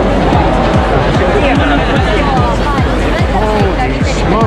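A dense Halloween-night crowd packs a street in Shinsaibashi, Osaka, its loud babble of many overlapping voices running continuously, with shouts and calls rising out of the steady hubbub.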